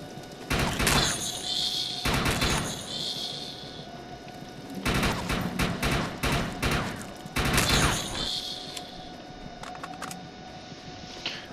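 Tap-fired gunshots in a video game, heard as short rhythmic bursts of sharp shots separated by pauses, fairly loud and close, with little talk over them.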